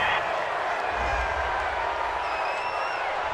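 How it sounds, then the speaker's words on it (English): A home stadium crowd in Madden NFL 20 roars steadily, reacting to a fourth-and-goal penalty call, a continuous loud wash of cheering with no gaps. "This home crowd, they're happy with that call."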